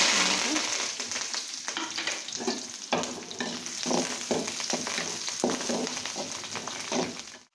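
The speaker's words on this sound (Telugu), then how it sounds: "కరివేపాకు, మిరపకాయ, జీలకర్ర, ఆవాలు, ఎర్రగడ్డ వేస్తున్నానండి." Curry leaves, chillies, cumin seeds, mustard seeds and onion fry in hot oil with a steady, loud sizzle, broken by rhythmic scrapes and clinks of a stirring spoon in the pan, close up and without talk.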